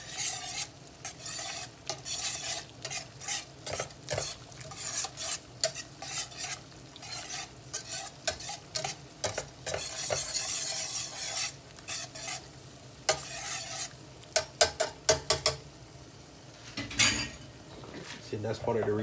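Meat sauce with heavy cream cooking down in a pan, stirred with frequent scraping and clattering utensil strokes against the pan over a constant bubbling sizzle, close and busy, with brief speech between.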